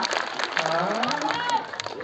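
Audience applause and crowd noise at a Balinese calonarang temple performance, brief and steady, mixed with shouting voices and chatter over the clapping.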